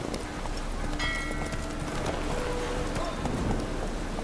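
Horse hooves clip-clop at a steady walking pace in The Witcher 3, with regular close hoofbeats layered over soft ambient game sound and faint rain-like background noise.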